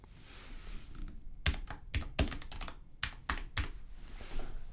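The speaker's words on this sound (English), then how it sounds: "here's where we type in the name." Keys clack on a computer keyboard as a name is typed in scattered clusters of sharp, close taps separated by short gaps, over a low room hum with no speech.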